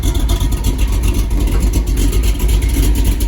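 An El Camino's engine idles loudly and steadily close by, a deep continuous rumble with no talking.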